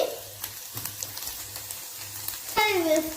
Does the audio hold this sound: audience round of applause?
no